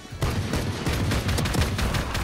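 Rapid gunfire in the tactical shooter game Valorant, a dense fusillade of overlapping shots rattling continuously at steady loudness, with no talk over it.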